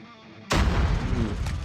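A grenade blast in the Call of Duty Mobile shooter game, a sudden loud boom that breaks a quiet moment and rolls into a dense rumbling, crackling tail of gunfire.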